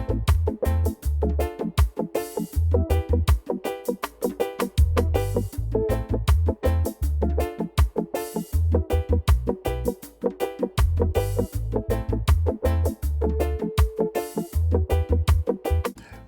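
A reggae guitar through a wah effect rolled back to a darker, organ-like tone in Logic Pro X plays choppy offbeat chords over a heavy, pulsing bass groove, loud and rhythmic with no talking.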